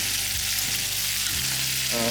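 Shrimp and sauce frying in a metal pan, a loud, continuous sizzle close up with faint stirring underneath.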